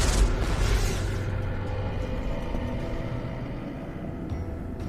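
Bombardment explosions in a Chinese fantasy drama battle: a loud, deep rumbling blast at the start rolls into a sustained low roar that slowly fades, with no talk over it.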